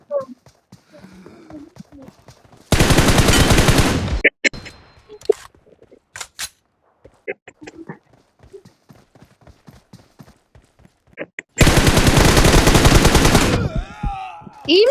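Pistol gunfire rings out in a video game, two long rapid bursts of shots separated by quieter stretches of sparse clicks and clatter, with a voice heard now and then.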